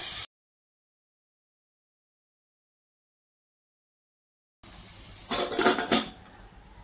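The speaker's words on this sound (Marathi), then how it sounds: "अख्खा मसूर आहे हा धुवून ठेवलेला, हा परतून घेऊया।" Washed whole masoor lentils are stirred with turmeric and spices in a pan, heard as a short burst of close scraping and clattering against the pan after a long stretch of silence.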